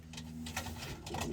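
A pigeon coos softly in a loft, a few low throaty murmurs close by, faint and alone with no talk.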